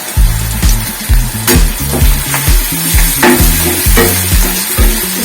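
Masala with turmeric frying in a pan, stirred with loud, repeated scraping strokes in a steady rhythm over a constant sizzle, close up and without talk.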